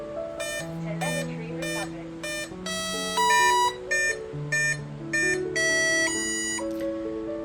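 Several electronic speed controllers in a Flightline Consolidated B-24 Liberator model airplane beep through thrust range alignment, overlapping tonal beeps and short melodic chirps in bursts, fairly close, with faint talk beneath.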